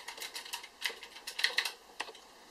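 Keys on a Razer Orbweaver mechanical keypad are pressed in an irregular run of crisp, close clicks and clacks, some singly and some in quick clusters, with no talk over them.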